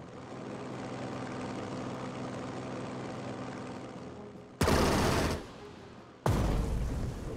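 Wildcat fighter plane gunfire in a Pacific naval strategy video game: a long steady engine drone, then two loud broadband bursts of gunfire in quick succession near the end.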